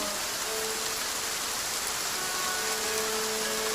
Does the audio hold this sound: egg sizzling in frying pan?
no